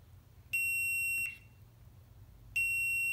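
Continuity-test beeps from a multimeter probing black automotive wires in a cut-up LS swap wiring harness on an OBS Chevy truck: two clear, steady high-pitched tones, the first about 1.3 seconds long, the second starting near the end, over a quiet background.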